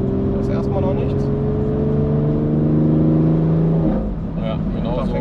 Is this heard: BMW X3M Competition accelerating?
yes